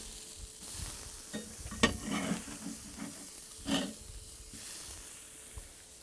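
Thin beef burger patties, salted with kosher salt, sizzle on the cooking surface just after being flipped. A quiet, steady hiss carries a few soft spatters and scraping bursts, close by and without talk.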